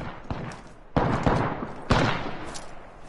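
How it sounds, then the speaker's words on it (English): Incoming gunfire in the battle royale video game Apex Legends: several sharp, loud shots burst out at irregular intervals over a steady rumbling background, with no talking. "I am taking fire, friends."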